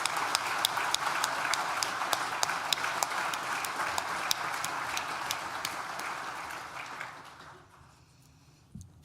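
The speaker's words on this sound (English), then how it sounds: "Please join me in thanking them with a well-deserved round of applause." Sustained audience applause at a university graduation ceremony for Nottingham Business School, dense steady clapping from a large crowd for about seven seconds before fading out, with a brief sound near the end.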